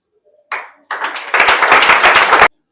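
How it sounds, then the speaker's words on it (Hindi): An audience at a Hindi classroom event honouring students who cracked IIT bursts into loud, dense applause that lasts about a second, after a brief shuffle of hand sounds, then stops abruptly. "जोरदार ताली बजा दीजिए आप"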